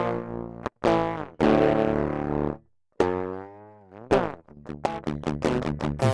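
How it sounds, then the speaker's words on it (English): A guitar recording run through crossover distortion on an STM32 audio DSP gives buzzy, gritty notes: a few sustained tones, then a quicker run of choppy repeated plucks toward the end, loud and alone. "Next, let's add some typical crossover distortion."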